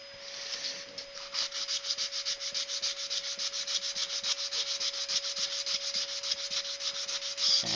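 Sandpaper rubs against a wooden dragon-claw goblet spinning on a woodturning lathe, a steady close hiss with rapid rhythmic pulses running throughout over a constant motor hum.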